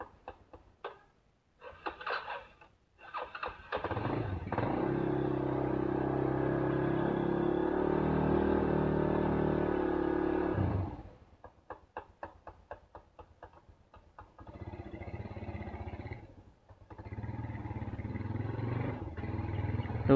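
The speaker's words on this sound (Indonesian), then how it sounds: "sebenarnya kalau digas begini nggak terdengar kasar ya" Yamaha Scorpio motorcycle engine revved, a steady idle with ticking clatter that rises into a sustained, louder rev for several seconds, then drops back to a choppy idle and revs briefly again, close and alone.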